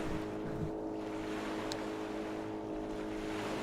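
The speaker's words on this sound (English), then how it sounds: "by the sound of it, he had a motor on it." In a video game, a motorboat engine drifts off across a lake, a faint, distant steady drone mixed with lapping water and wind.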